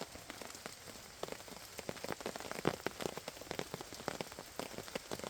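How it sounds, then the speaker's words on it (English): Steady rain pattering on woodland foliage and a hammock camp, dense overlapping drops with some louder close hits, falling alone without voices. "I think that rain woke me up."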